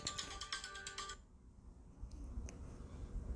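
An incoming call triggers a phone ringtone, a bright melodic ring lasting about a second before it cuts off, leaving a quiet room with a few faint ticks.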